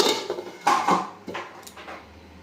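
A lid set onto a cooking pan of poi saag greens with vegetables, a few close metallic clanks and clatters in quick succession, the last ones softer as it settles, then quiet.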